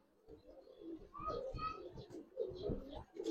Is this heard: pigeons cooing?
yes